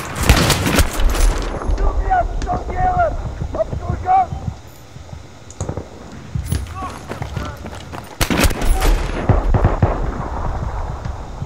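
Automatic RPK fire from a hacked hit-kill cheater in Battlefield 3, with loud bursts of rapid shots early and again near the end, mixed with explosions and game noise, while a voice talks over parts of it.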